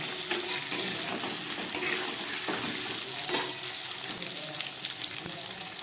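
Boiled potatoes with capsicum frying in a pan give a steady, close sizzle with scraping stir strokes and a few louder clatters, no voices.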